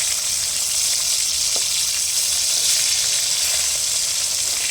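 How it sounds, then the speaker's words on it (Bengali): Fish fillets sizzling in hot oil in a pan, a dense, steady hiss with a brief scrape as a piece is flipped, close and loud, no voices. "মাছের এক পিঠ ভাজা হয়ে গেছে, আমি উল্টে দিচ্ছি"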